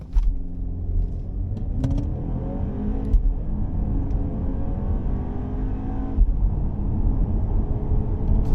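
A 2024 BMW X2 xDrive20i accelerating hard, a steady engine drone climbing in pitch through the gears with a brief shift dip, heard from inside the cabin at moderate level with no talking.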